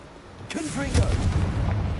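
A fiery Confringo blast spell goes off in a fantasy video game, a sudden whooshing burst followed by a rumbling roar with a voice shouting over the start.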